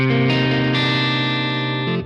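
A brief, loud burst of high-gain distorted electric guitar from the Swag Push preset of a signature amp plugin, a thick sustained chord changing shape a couple of times before cutting off.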